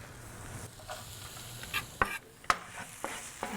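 Onions dropped into a pan of hot vegetable oil, a soft steady sizzle with a few sharp clinks and scrapes of stirring, close and fairly quiet, no talk.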